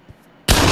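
A single loud gunshot from a weapon in the Pavlov VR shooter game cracks out suddenly after a near-silent lead-in, with a broad, sustained blast that fills the rest of the moment.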